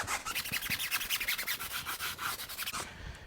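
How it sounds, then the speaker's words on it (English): A stiff brush scrubs a car tire, working into the tread designs and sidewall folds with quick, steady back-and-forth rasping strokes, close and fairly quiet, then stopping abruptly near the end. "rather stiff brush so it can get into all the areas in between the designs of the tire"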